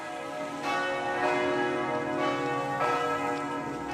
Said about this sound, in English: that's the bells of the Catholic Cathedral, which is also a basilica